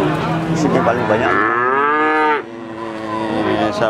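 Simmental and Limousin cattle at a livestock market in Magetan, East Java, give one long, loud, close moo that rises and then breaks off, with a second fainter call after it.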